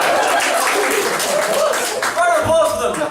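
Audience at an improv comedy club night clapping, with a chuckle or two, as a dense patter of hands runs beneath a performer's talking and swells again near the end.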